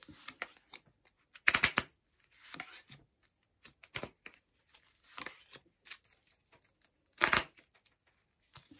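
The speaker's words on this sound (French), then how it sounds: "on va tirer 5 cartes de l'oracle" Oracle cards shuffled by hand for a tarot reading, heard as quiet bursts of riffling and flicking card noise separated by pauses, close and alone.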